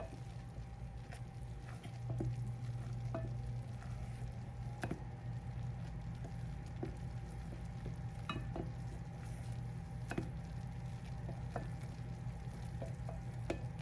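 Sugar-free caramel for a pecan pie, stirred in a pan: a quiet, steady sizzle with soft scraping and clicking strokes recurring throughout, no talking.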